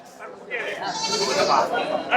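A six-toothed ram sheep with well-formed horns bleats in a long, wavering cry at a goat market in Ranipet, close and fairly loud, with people talking nearby.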